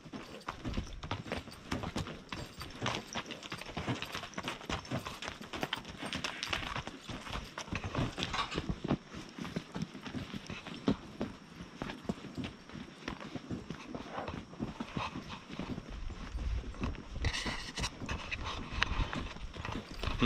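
A horse walks along a remote backcountry trail, its hooves clip-clopping in a steady rhythm, close and fairly loud, with occasional snorts and rustling throughout.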